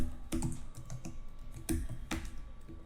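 Keys on a computer keyboard are tapped in short, uneven clusters of clicks while a folder name is typed, close and fairly quiet, with no voice over the keystrokes.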